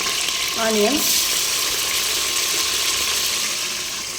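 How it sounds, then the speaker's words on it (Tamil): Five large cut onions go into hot oil with cinnamon, cardamom and cloves for biryani, producing a broad, steady hissing sizzle that stays loud throughout, with a brief chirping sound early on. "அஞ்சு பெரிய வெங்காயம் கட் பண்ணினது ஆட் பண்ணிக்கலாம்."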